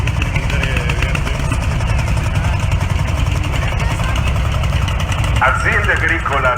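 A Landini L25 tractor fitted with a mower bar idles at an agricultural fair's blessing of farm vehicles in Inveruno, a steady, loud, low engine rumble running continuously while people talk over it.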